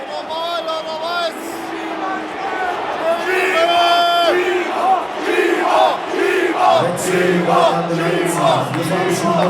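A football stadium crowd erupts in loud, animated shouting and whistling at a referee's decision. The roar is dense and continuous and holds through the whole stretch.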